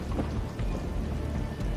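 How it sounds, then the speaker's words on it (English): Rain falls steadily during a windy storm around a building being prepared for demolition, with a continuous hiss and low rumbling underneath, no voices. "I'd love to wait for this storm to pass and be able to do this tomorrow"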